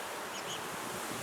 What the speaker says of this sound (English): This is the box of bees. That's called a package of bees.